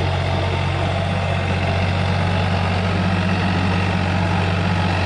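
New Holland 3600 tractor engine running steadily at an easy, unloaded pace during a farm demo, a constant low diesel hum held close and loud with no speech.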